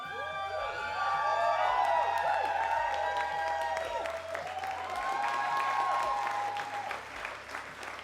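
Loud crowd applause at a live performance at Tellus 360, with cheering and whoops rising over it, sustained for several seconds before tapering slightly at the end.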